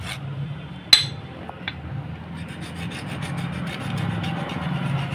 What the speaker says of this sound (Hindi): जिस तरह हम घिस रहे हैं ब्रेक शू को